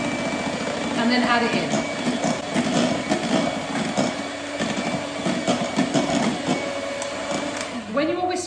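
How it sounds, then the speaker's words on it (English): Sugar is whisked into meringue in a mixing bowl, a busy continuous scraping whir running underneath a person talking throughout. "When you're whisking the sugar, you just need to give it enough time to dissolve."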